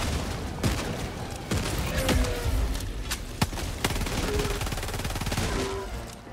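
Rapid automatic gunfire from a deployed autocannon sentry in Helldivers 2 on extreme difficulty, dense overlapping shots and booms running steadily throughout with several sharp loud bursts, busy battlefield din with no clear talk.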